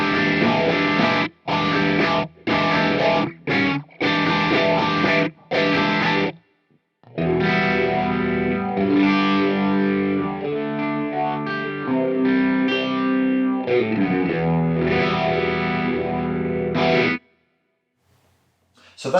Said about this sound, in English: So scene C, I've got the overdrive with, again, a phaser.